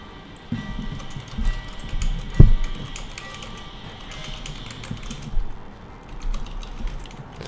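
Keyboard typing during a Minecraft prison server session, a soft run of irregular clicks and taps beneath steady game and background noise, with one sharper knock partway through.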